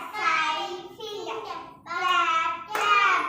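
Small children at an anganwadi clapping their hands along with a counting rhyme, a few short bursts of claps mixed with young voices chanting in a group.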